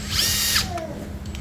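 Cordless battery-powered Japanese power drill revving up loudly for about half a second, then running on with a steady motor whine, close up with no talking.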